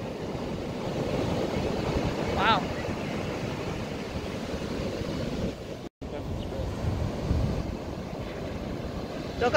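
Rough, rushing ocean waves mixed with heavy wind buffeting the microphone, a constant churning roar with a brief dropout midway.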